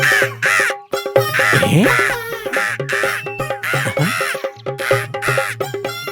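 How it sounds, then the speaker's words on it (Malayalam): An animated crow in a Malayalam children's story caws again and again in harsh, strained calls over a bed of tonal music, the cries rising and bending throughout. "പക്ഷേ ആ കാക്ക ചത്തിട്ടില്ലായിരുന്നു കേട്ടാ"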